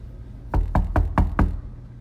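Five firm knocks on a dorm room door late at night, evenly spaced and loud, close by with no talking.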